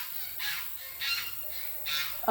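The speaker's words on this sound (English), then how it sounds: "I think the geese are coming to see us." Geese honk several times at a fairly even rhythm, somewhat distant, in a vegetable garden, with a quiet background between calls.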